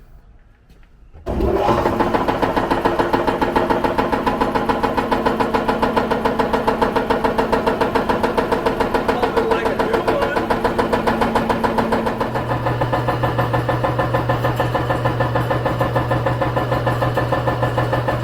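A large Wayne shop air compressor starts up after a brief quiet moment, then runs steadily and loudly up close with a pulsing, chugging mechanical rhythm; its tone deepens into a lower drone toward the end.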